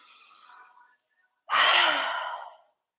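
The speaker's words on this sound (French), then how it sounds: "On fait 5 belles grandes respirations. Inspirez." Deep breaths during a vinyasa flow yoga class: a soft, steady exhale trails off, then after a brief pause a loud, close, airy breath swells and fades over about a second.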